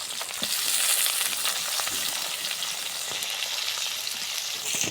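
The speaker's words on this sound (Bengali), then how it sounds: "পেঁয়াজটা আমরা হালকা একটু ভাজে নিই।" Chopped onion sizzling in hot oil in a wok with bay leaf and cinnamon, a steady close crackling fry that runs the whole time with occasional stirring scrapes and no talk.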